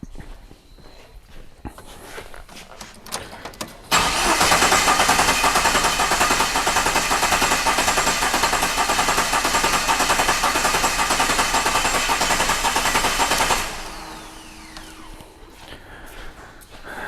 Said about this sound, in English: Now we're just gonna go OK, and it asks me to crank the engine.